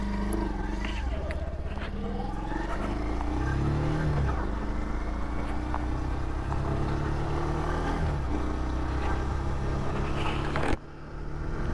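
Bajaj Pulsar 150 Twin Disc motorcycle being ridden, a steady engine drone with rising and falling pitch as it changes speed, heard close and continuous with wind rumble.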